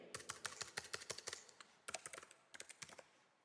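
Rapid keystrokes on a computer keyboard while entering data in an Excel spreadsheet form, a close, crisp burst of clicks followed by a brief pause and a second, sparser run of taps.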